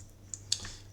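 Two quick keystrokes tap on a computer keyboard, sharp, close clicks a moment apart over faint room noise.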